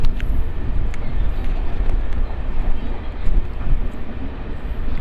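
A MEMU express train runs between Visakhapatnam and Parvatipuram near Pendurti station, its steady low rumble loud and continuous throughout, with faint clatter and brief higher clanks riding over the constant rolling noise.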